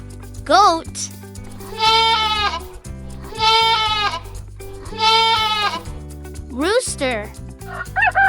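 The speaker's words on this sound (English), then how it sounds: "Goat." A goat bleats three times in drawn-out, wavering calls, loud and close, over a steady bed of background music with a few brief tonal chirps at the edges.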